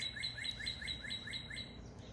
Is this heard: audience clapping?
no